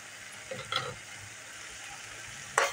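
Homemade red masala, garam masala, turmeric and salt sauté quietly in oil for egg curry, a faint low sizzle broken by a few sharp scrapes of the stirring spoon against the pan.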